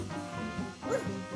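A voice imitates a dog, giving a couple of short yippy bark-like sounds, close and clear.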